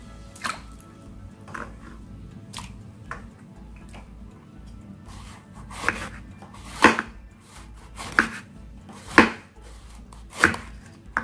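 A knife chops through a fresh banana blossom on a board, sharp single cuts spaced a second or so apart, growing louder and crisper toward the end, with no talk.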